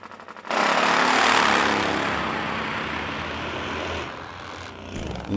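A hot rod pulling tractor engine roars loud and steady through a run at the AMRA Jim McClure Finals, a continuous dense blast that eases slightly toward the end before surging again.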